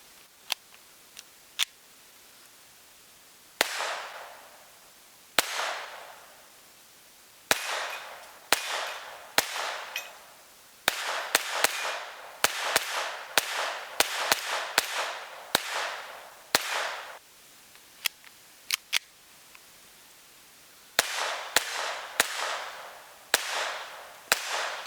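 A KelTec P17 .22LR pistol fires sharp, cracking shots outdoors, single shots at first then quicker strings of rapid fire, each with a short echoing tail, with pauses between volleys.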